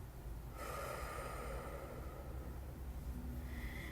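A deep, steady exhale during a guided breathing exercise, a long, soft breath of air continuing alone through the stretch with no talk over it.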